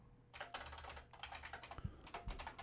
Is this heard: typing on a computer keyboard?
yes